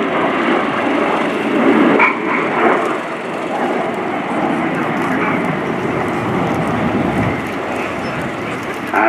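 Red Arrows jet aircraft performing at the RIAT 2018 air show, a loud, steady broadband roar of jet engines that swells slightly and holds throughout without a clear pass-by.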